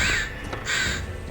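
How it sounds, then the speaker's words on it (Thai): Two harsh crow caws, one at the start and another just after the midpoint, ring out in the Assassin's Creed Valhalla video game. "มาดูสกิลอีกากัน"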